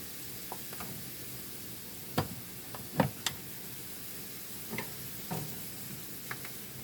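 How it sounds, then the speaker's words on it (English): Onions fry in a pan with a low, steady sizzle, close by, broken by occasional sharp pops and ticks. No one talks. "And while these onions cook to clear"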